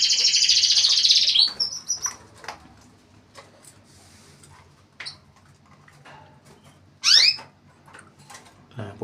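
Canaries being introduced for mating, bright trilling song at the start, then scattered short chirps and tweets, with a sharp burst of calls later, fairly close over a quiet background with faint ticking.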